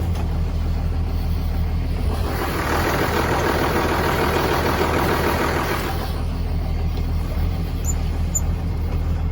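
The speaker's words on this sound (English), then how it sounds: "it's going to start sounding like it's a one cylinder after the other is going to start cutting out" A Cummins diesel truck engine with a failing VP44 injection pump runs close by, idling steadily and then roughening for a few seconds, as if cylinders are cutting out, before settling back.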